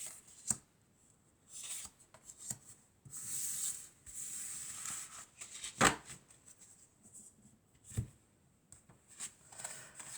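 Tarot-style cards are shuffled and drawn for a reading, with soft riffling and sliding bursts, sharp snaps and taps, all close and fairly quiet.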